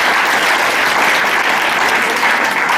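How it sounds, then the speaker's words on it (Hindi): A studio audience at a physics quiz show claps for a competing quiz team, producing dense, loud, even applause that lasts a few seconds with no pauses. "टीम बी, तालियां बजाएं एक बार"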